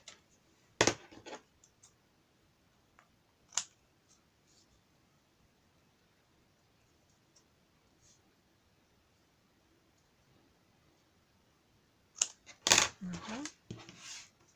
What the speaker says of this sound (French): Je vais couper l'excédent.